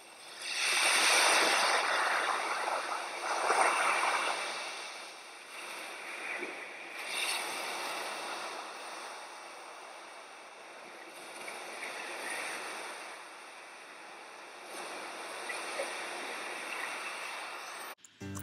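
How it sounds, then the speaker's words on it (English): Ocean waves wash and surge in a steady broadband hiss, swelling loudest early on and then settling into a softer continuous roll with periodic breaking swells, with no voices. "take a few moments to just relax and watch the waves"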